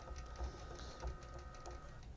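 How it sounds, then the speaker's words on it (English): An embroidery sewing machine stitches fabric, giving a steady mechanical whir with a soft repeating stitch rhythm throughout, fairly quiet and close, with no one talking. "you can see now the machine is going to be stitching"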